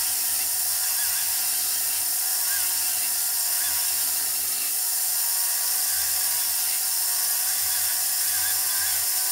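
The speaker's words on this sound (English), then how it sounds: "just extended my rotary file out a little bit so the tool doesn't hit the back of the wax" A rotary file carves a large wax signet ring with a continuous high, steady whine and a faint grinding texture, loud and close, running without pause.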